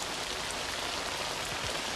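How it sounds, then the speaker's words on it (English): Steady rain falls on a hard surface, a dense, even hiss of drops that stays constant and fairly close throughout. "It's raining again."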